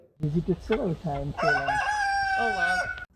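A deshi (native-breed) rooster on a farm in Canada crows once, loud and close, a long rising call held out before it breaks off, preceded by a few short clucks.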